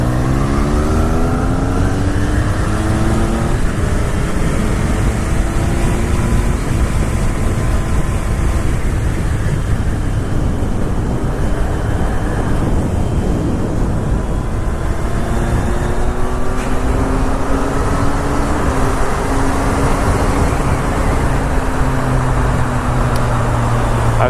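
A motorcycle rides onto a highway in Tokyo during a morning commute, its engine revving up through rising pitch sweeps, loud and steady over continuous wind and road roar, with nearby traffic noise throughout.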